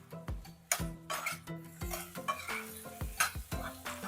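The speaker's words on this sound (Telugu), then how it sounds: "ఈ పొటాటో కొంచెం వేగాలండి, ఆయిల్లో కొంచెం వేగితే చాలు." Boiled potatoes are stirred in hot oil in a pan for a sago khichdi, with steady scraping and clinking strokes of a utensil over a soft sizzle, close and alone.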